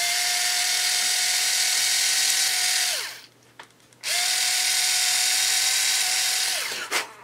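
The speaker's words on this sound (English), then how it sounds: "Drill some little holes in this plywood." A power drill whines steadily while drilling small holes in plywood, stops and spins down, then starts again for a second steady run before winding down once more.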